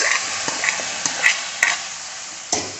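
Vegetables for a vegetable stew, with potato and garlic, are stirred in a frying pan, giving a steady soft sizzle with scattered scraping clicks of the spoon against the pan.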